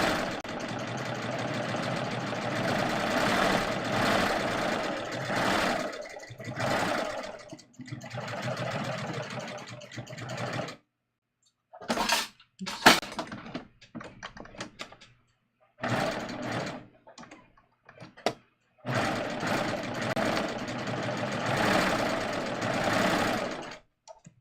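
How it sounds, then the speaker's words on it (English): A sewing machine stitches slowly along a garment's neckline facing, its motor whirring in long runs broken by pauses and short bursts, close and clear with no voices. "You probably don't see me sew this slowly this very often"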